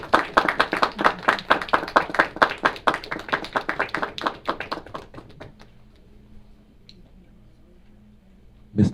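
An audience at a city's State of the City address claps in a dense, steady round of applause as the mayor enters the room, the clapping loud and close before thinning out and trailing into quiet room noise.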